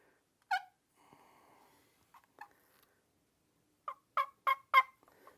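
An Ashby turkey call sounding a gobbler imitation: a single gobble burst, then a soft raspy stretch and a few clucks, followed by a rapid run of four loud gobbling yelps, close and alone.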